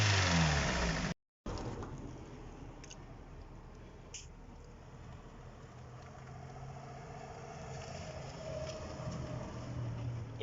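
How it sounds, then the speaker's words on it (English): A long-neglected car engine idles steadily after being revived from an empty, bone-dry fuel state, a continuous low rumble with a brief dropout near the start and slight variations later. "This car hasn't idled in a very long time."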